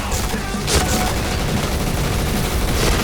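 Dense, continuous video game combat with booming grenade explosions and gunfire in a Thai shooter, loud and sustained throughout with no pauses.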